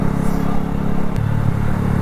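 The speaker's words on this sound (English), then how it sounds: "Oh, I'm allergic to revving my bike." Honda CB125F motorcycle engine revving up close, a steady loud low drone with rough clattering texture and a brief surge partway through.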